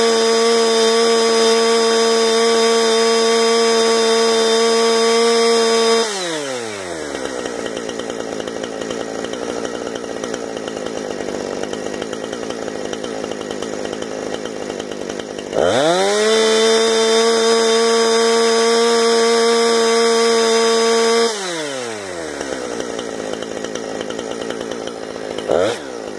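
A tuned chainsaw engine runs unloaded, climbing to a steady high-pitched scream at wide open throttle, then dropping back to a lower idle, with two full rev-up and rev-down cycles, loud and close.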